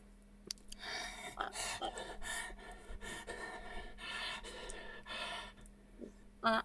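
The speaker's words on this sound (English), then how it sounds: "you hear it panting with hunger and desperation" A gaunt, tight-skinned creature with long dirty nails and yellow teeth, from the video game Enclave, pants hungrily in a steady run of breathy gasps with a sharp snort near the end.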